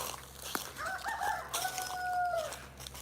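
A rooster crows loudly nearby in one drawn-out call, backed by softer clucking from other chickens and a low steady background hum.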